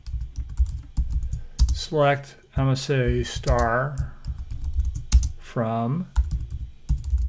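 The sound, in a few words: typing on a computer keyboard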